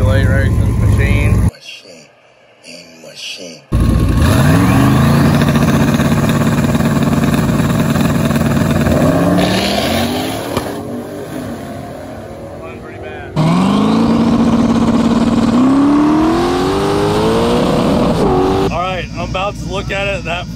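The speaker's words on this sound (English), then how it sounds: "we're gonna have trans brake launches to the track for the first time" A street drag car with a trans brake idles loudly, then launches and screams down the track through rising gear pulls, a close, roaring engine with a second run later and someone talking between passes.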